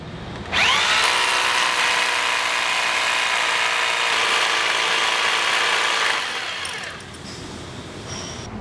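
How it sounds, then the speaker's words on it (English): A power drill runs loud and steady for about six seconds, whining as it bores an anchor hole into hard material, then winds down and stops. "first we'll begin by drilling our hole for our drop-in anchor"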